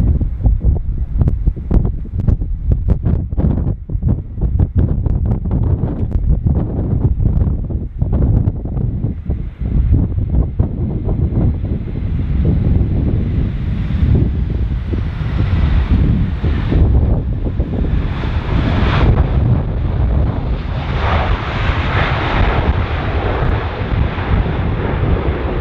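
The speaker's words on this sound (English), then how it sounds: "Surface wind 130 degrees, 27 knots, max 32, min 14" Strong gusty wind at Dublin Airport buffets an outdoor microphone, a loud, continuous roaring rush that surges and eases in gusts throughout, with no voices.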